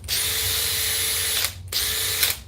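A Makita XGT cordless power drill drives screws in two loud, steady high-pitched whirring bursts close by, the first longer and the second shorter, separated by a brief pause.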